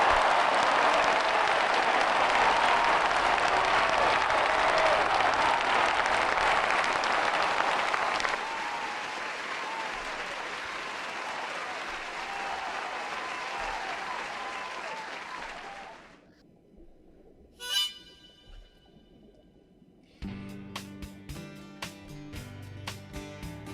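Loud, dense audience applause from a crowd, sustained for about sixteen seconds and thinning midway, then dropping away to near silence before music begins.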